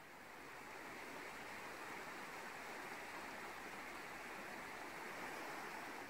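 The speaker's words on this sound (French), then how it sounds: "Approche-toi encore un peu plus de cette cascade" A steady, broad rush of falling water pours continuously, even and enveloping, with no other sounds rising above it.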